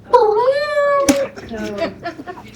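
A man imitates a cat with a long, drawn-out meowing wail, followed by a sharp burst and then his speaking voice.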